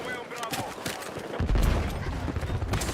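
Sustained automatic rifle fire in the shooter game Battlefield 6 rattles in a fast continuous burst that swells louder halfway through, with a voice talking over the shots.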